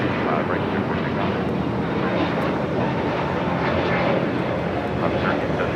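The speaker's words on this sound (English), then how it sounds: "A321neo with Spirit heading to Detroit Metro, now taking off." Spirit Airlines Airbus A321neo jet taking off at LAX, a steady broadband engine roar that holds loud and even throughout, with radio chatter faintly underneath.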